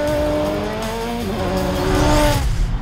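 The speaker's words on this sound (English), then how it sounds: "We'll be driving 10 of the most captivating Ferrari models ever, including the Ferrari California" A Ferrari race car in the Need for Speed Shift video game roars continuously at high revs, its engine pitch sliding and shifting while tires squeal briefly, loud and close throughout.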